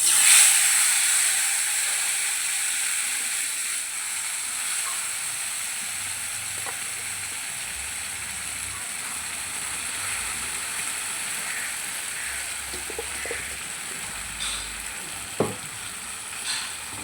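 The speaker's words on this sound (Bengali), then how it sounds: "তেল গরম হয়ে গেছে। এবার আমি এর মধ্যে চিংড়ি মাছগুলো দিয়ে দেবো।" Prawns fry in hot oil in a wok, giving a loud, continuous hissing sizzle that starts strong and settles into a steady crackle, with a few sharp pops and clinks near the end.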